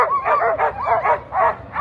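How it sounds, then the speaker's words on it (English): Alaskan Husky sled dogs at a race in Anchorage give loud, close yipping barks and whines in four rapid rhythmic bursts, with no talk over them. "Alaskan Husky at his finest here."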